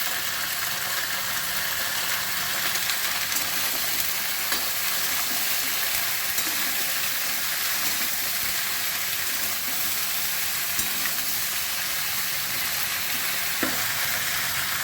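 Vegetables with salt, turmeric, cumin powder, coriander powder and green chillies sauté in a pan for Bengali puimuchuri, giving a loud, steady sizzle throughout with occasional soft spatula scrapes and taps.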